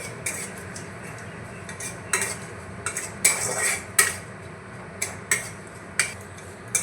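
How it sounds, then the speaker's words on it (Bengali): A dried red chili tempering stirred in a pan with a metal ladle, giving a run of sharp clinks and scrapes at an uneven rhythm over a faint low sizzle, close up with no talking. "দিয়ে দিচ্ছি একটা শুকনো লঙ্কা। একটু নাড়াচাড়া করে নিচ্ছি।"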